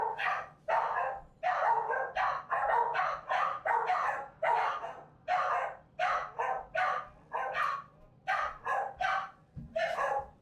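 A dog in the video game Pathfinder: Wrath of the Righteous barks and yips repeatedly in quick, loud bursts, a steady run of barks with short gaps, heard on its own.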